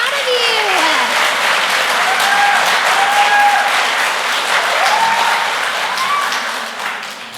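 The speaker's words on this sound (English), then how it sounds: "let's give these kindergarten students one more round of applause." A school audience gives kindergarten students a loud, dense round of applause at an elementary school celebration, continuous clapping filling the room for several seconds with a few high cheers and whoops rising above it.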